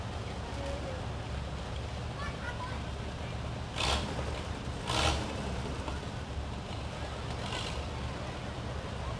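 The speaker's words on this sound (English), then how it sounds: "This is a 1949 Oliver 77." A 1949 Oliver 77 tractor rolls along in a threshing bee parade of tractors in Mankato, Kansas, its low steady engine rumble mixed with outdoor ambience and a couple of brief louder bursts.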